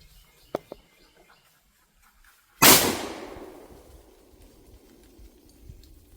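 A single loud, close coach gun shotgun blast fired outdoors at a nest, with a long decaying echo after it; a couple of small clicks come earlier.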